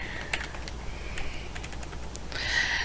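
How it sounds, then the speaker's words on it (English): Typing on a computer keyboard gives scattered light clicks over a low background hum. The keystrokes are close but soft, and the hum grows slightly louder toward the end. "as you start typing"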